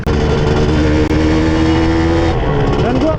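A two-stroke motorcycle ridden at normal pace through city streets, its engine buzzing loudly and steadily up close with a brief cut near the start, while someone speaks over it.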